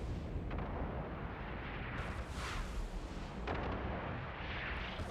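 Heavy ship weapon volleys boom in EVE Online during a frigate fight, a T0 Kestrel battling strong frigate waves; dense, continuous rumbling blasts with a few sharper bursts, loud and close, with no talk.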